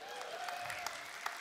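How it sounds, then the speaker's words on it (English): A church audience claps steadily at a moderate distance, a soft continuous patter with a few sharper claps standing out. "yeah, you can cheer for that"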